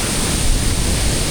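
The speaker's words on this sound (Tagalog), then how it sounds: "Galit na galit yung tubig." Loud, steady rush of a mountain waterfall at Mt. Romelo, broadband roaring water filling the whole clip up close with no pauses or voices.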